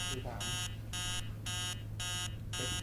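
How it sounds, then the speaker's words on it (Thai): Alarm clock ringing in the horror video game Emily Wants to Play, sharp bright bursts of electronic beeping repeating in an even on-off rhythm, loud and alone apart from faint room hum. "ตอนนี้นาฬิกาปลุกดังขึ้นมาแล้ว"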